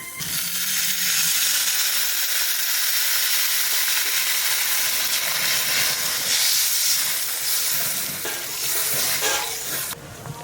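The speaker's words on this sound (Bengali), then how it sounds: "এবার জল দিয়ে দেবো" Water hits a hot pan for a Bengali river catla fish curry with potatoes, a loud steady sizzle and steamy hiss that carries on for several seconds, nearby and without talking.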